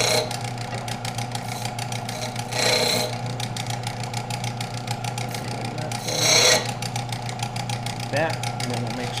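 A skinning knife is drawn over a sharpening stone in quick, even rasping strokes, with a steady hum underneath and two brief louder scraping bursts.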